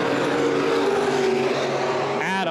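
Open wheel modified race cars roar past at Baer Field Speedway during the Gold Cup 60, a loud, continuous engine drone that shifts pitch as a car passes near the end.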